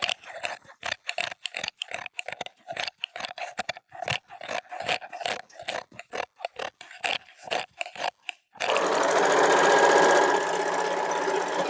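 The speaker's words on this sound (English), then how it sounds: "I am just overlocking in white because it's just for the ironing board" A white-thread overlocker serges fabric for an ironing board cover, running in quick rhythmic bursts with brief pauses, then settling into a steady continuous whir close by.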